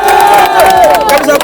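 A crowd at a welcome event in Burundi cheers and shouts loudly in a dense, close burst of voices with whistles or high calls rising over it.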